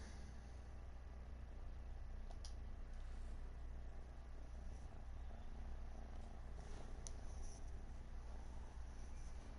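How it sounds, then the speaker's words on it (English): A cat purrs close to the microphone as a low continuous rumble, quiet and steady for the whole stretch, with a couple of faint brief clicks above it. "Y'all can probably hear him purring right now."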